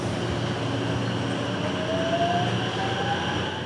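Train at a Japanese station on a summer evening, a steady loud rumble of the cars with a thin rising wheel squeal partway through, no voices.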